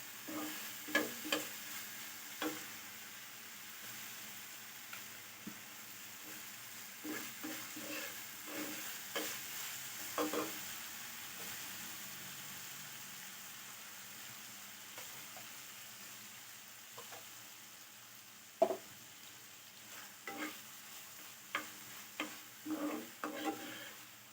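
Ginger garlic paste and soy sauce stir-frying in a pan for chicken shawarma: a steady close sizzle broken by frequent scraping and clattering strokes of a stirring utensil, with no talking.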